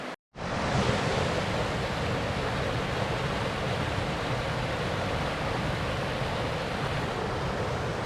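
Steady, loud rush of water pouring over small rock ledges on a river at Bearden Falls in the Blue Ridge WMA, North Georgia, swollen by recent rain; a close, continuous broadband roar with no talking.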